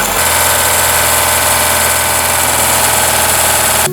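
A small carburetted engine with a Pierburg 2E carburetor, running rich and misfiring, runs steadily and loudly up close, its idle rough and uneven with a faint stuttering unevenness throughout.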